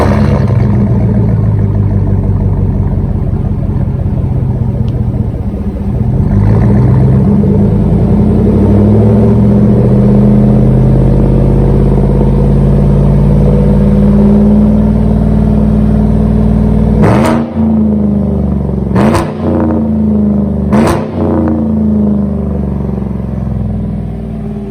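2018 Chevrolet Silverado with a 5.3L V8 and BlackWidow aftermarket exhaust rumbles loudly and steadily at idle, then gives three sharp throttle blips near the end, each rising and falling quickly, with no talking.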